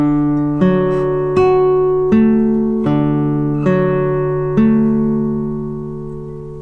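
Classical guitar plays bar two of Sor's Study No. 6, a slow sequence of plucked notes and chords, each attack ringing and overlapping the next, clear and close with no talk.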